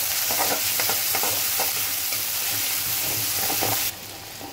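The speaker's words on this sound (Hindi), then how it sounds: "प्याज को डाल रहे हैं, अच्छी तरह भुनना है इसको" Chopped onions fry in hot oil with mustard seeds and cumin for poha, giving a steady, loud, close sizzle with faint stirring scrapes, no talk, and the sound thins out abruptly near the end.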